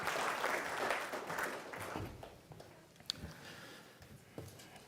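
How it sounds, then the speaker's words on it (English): A seminar audience at an energy storage event gives a round of applause, fairly faint and thinning out over a few seconds, with scattered individual claps near the end. "Let's give a round of applause."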